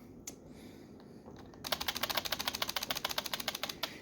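Rapid, steady typing on a foam-filled, silenced mechanical keyboard with soft, muted clacks, a burst of even keystrokes after a couple of isolated taps, no voices.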